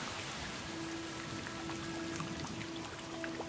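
Rain in the Masai Mara falls steadily with a dense hiss and scattered close drips and splashes, continuous and fairly soft throughout.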